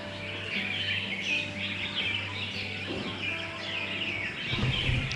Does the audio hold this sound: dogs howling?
no